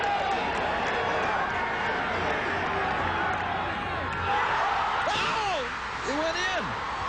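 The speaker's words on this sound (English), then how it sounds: "the crowd goes wild" Golf gallery roaring wildly after Tiger Woods holes a 9-iron tee shot from 152 yards for an ace, a loud sustained crowd wash with whoops rising near the end, under a commentator's voice.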